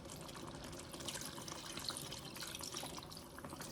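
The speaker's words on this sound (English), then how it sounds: "Now I will add 300 ml of" Water pours steadily into a handi of chicken Mughlai, a continuous soft splashing and running wash that stays even throughout, with no voices.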